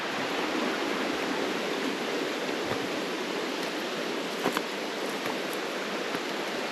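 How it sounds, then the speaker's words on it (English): A cold creek at an off-road camping area flows steadily, a continuous broadband rush of water with a few faint clicks and splashes and no voices. "Showed you the creek."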